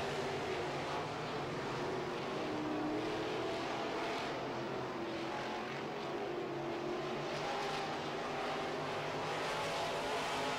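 Midwest Modified race cars circle a speedway at night, a steady, fairly distant drone of engines with wavering pitch as cars pass, continuous and without talk.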